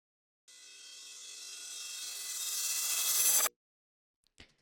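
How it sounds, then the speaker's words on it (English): Resampled audio stretched in a texture warp mode while the grain size is swept, giving a noisy, wobbling swell that builds steadily for about three seconds and then cuts off abruptly, followed by a faint click. "So now we're getting kind of a wobbling sound."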